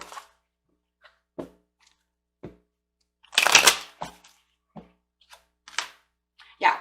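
Tarot cards are shuffled and handled in a series of short, sharp riffles and taps with gaps between them, including one louder burst midway, close and crisp.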